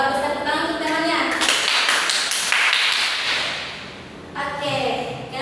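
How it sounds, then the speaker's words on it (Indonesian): Students in an Indonesian classroom clap for a classmate, a short burst of sharp, dense hand claps with voices talking before and after. "Tepuk tangan untuk temannya."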